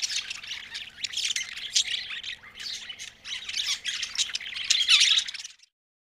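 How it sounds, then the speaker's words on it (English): Budgerigar squawking in bursts, a string of harsh, scratchy chattering calls close up that cut off abruptly near the end. "Budgie."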